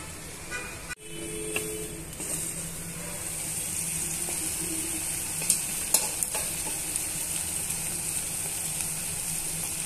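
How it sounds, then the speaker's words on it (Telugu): Onions and green chillies fry in a covered pan with a steady, close sizzle, a sharp knock near the start and a few faint clinks partway through. "మూత పెట్టుకొని వేయించుకుందాం."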